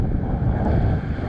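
Strong seaside wind buffets the microphone in a low, rumbling roar, with a faint hiss of choppy, wavy sea water underneath at a granite-shore fishing spot and no one speaking.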